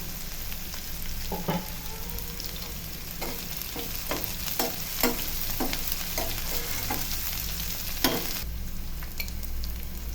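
Green chillies and curry leaves frying in a pan for a banana stem and egg dish, continuous sizzling with repeated spoon-stirring clicks and scrapes, close and steady, no talking.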